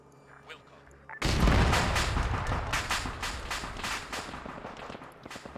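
Tank cannon and gunfire roar through a video game battle on the 50th Easting, a sudden loud blast kicking off a sustained barrage of rapid, repeated firing that gradually trails off.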